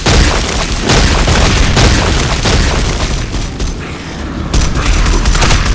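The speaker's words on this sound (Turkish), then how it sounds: "Bomba atıyorum." Bomb explosions in the video game Hounds: The Last Hope roll as loud, dense booms and crackling blasts that continue without pause, close and overwhelming, with a brief dip before another burst.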